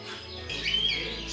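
Canaries, finches and conures chirp inside a bird supply store, giving a brief, bright burst of overlapping tweets over a steady indoor background hum.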